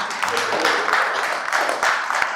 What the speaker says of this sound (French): vous pouvez la féliciter et l'applaudir quand même